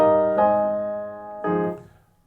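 Arturia Keylab Essential 88 keyboard in expression velocity mode, two separate chords struck in a quiet room, each ringing with a bright attack and then decaying slowly.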